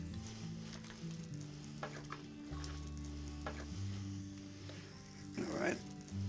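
Vegetables sizzle in a pot with turkey or chicken stock as they are stirred, a steady hiss and bubbling close by, with a person talking faintly over a low hum.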